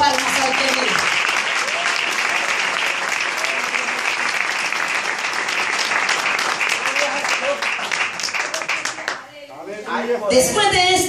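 A church congregation gives a sustained round of clapping in praise to God, dense and steady for about nine seconds before thinning out, with a voice breaking in near the end.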